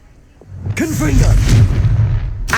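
Confringo spell blast in the video game Hogwarts Legacy: a voice speaks briefly, then a loud, deep booming burst swells and rumbles on for over a second before a sharp final crack.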